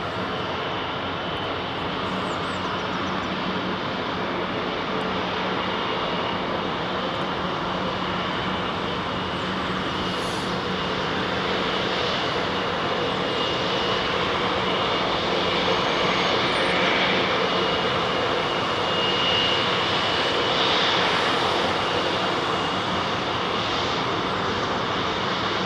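British Airways jet airliners lined up at London Heathrow runway 27 right give off a steady, loud, broadband engine roar that holds unbroken for the whole stretch, with no talking.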